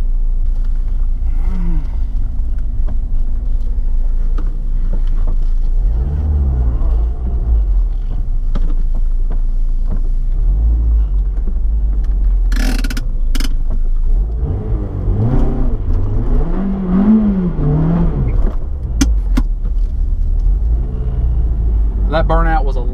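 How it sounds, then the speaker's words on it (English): A car doing a burnout in the staging lane at a drag race, a drag strip run between an RSX Type-S and a Subaru WRX: a loud engine rumble and revving that rise and fall throughout, with voices talking over it. "That burnout was a lot better."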